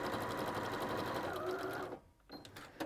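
A domestic sewing machine stitches patchwork seams with a fast, steady rhythmic whirr close by, then stops briefly and resumes with a few short bursts.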